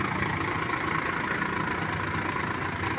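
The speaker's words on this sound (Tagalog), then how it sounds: "Truck mixer ang ginagamit guys." A concrete truck mixer's heavy diesel engine idles nearby, a loud, even low-pitched drone that holds steady throughout with no voices.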